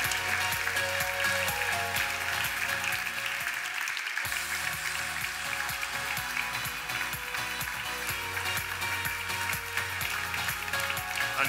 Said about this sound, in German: es wird so lange geklatscht, bis sie oben sind.